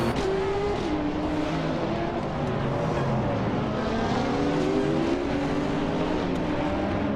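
A 1970 Ferrari 512 racing car engine in a racing video game holds a steady loud drone, its pitch rising and falling smoothly through gear changes, with no talk.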